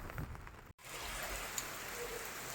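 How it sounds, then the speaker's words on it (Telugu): Rain falls around a house as a soft, steady patter and hiss, fairly faint, broken by one brief moment of silence before it carries on evenly. "వర్షానికి ఎలా ఉంది ఫ్రెండ్స్ చూసారా వర్షం"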